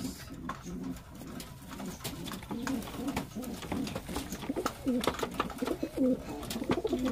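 Pigeons, including checkered, brown and pencil-marked birds, coo close by in repeated low rolling phrases that grow louder toward the end over faint background noise.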